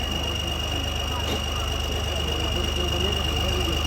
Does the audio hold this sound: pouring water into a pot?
no